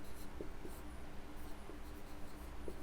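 A pen writing on paper while working a fourth-grade maths problem, with soft, faint scratching strokes against a quiet room hum and no speech.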